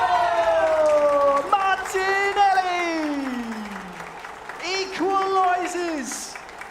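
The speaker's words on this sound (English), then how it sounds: "And the Japanese crowd, they love what they see here." A Japanese crowd cheers and applauds an equalising goal at an eFootball Championship 2024 World Finals knockout match. The broad roar sits under loud, excited commentary that runs throughout.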